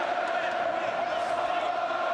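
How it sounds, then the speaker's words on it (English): A packed boxing arena crowd roars in a dense, continuous wash of noise during a Ricky Hatton versus Juan Lazcano fight, loud and unbroken with no distinct claps or voices standing out. "The noise from the crowd ringing around this arena is quite incredible."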